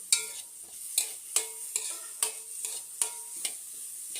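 Onion and green chilli stirred in a hot pan, a spatula clacking against the metal in a steady rhythm of about two strokes per second over a soft sizzle, close by and with no voices.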